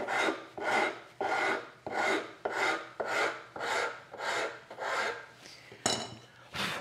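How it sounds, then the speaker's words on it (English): A coarse woodworking rasp is drawn across wood in about nine even, rhythmic strokes, each a close, gritty scrape that swells and fades before the next, with no talking. "once I've used the coarse rasp, then I can go in with a series of finer and finer ones to go in and refine that shape"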